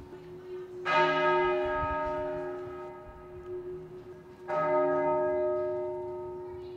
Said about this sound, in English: At midday, the bells tolled